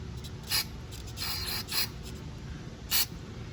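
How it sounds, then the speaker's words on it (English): Aerosol cleaner sprayed into a Briggs carburetor from a 2018 Toro Mow N' Stow lawnmower with a stuck choke, three short hissing bursts over a steady low hum. "So I'm just gonna spray this out. Inside, spray in here. The fuel inlet, make sure it comes out, and then spray here."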